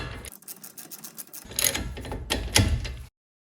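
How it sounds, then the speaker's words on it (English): A ratchet tightens brake caliper bolts on a 2018 Chrysler Pacifica, with rapid close clicking that gives way to louder, heavier clunking strokes before falling silent. "I'm just going to tighten them until I feel tension with the ratchet right there"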